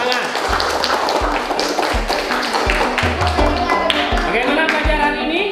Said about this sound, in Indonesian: Semuanya tepuk tangan dulu.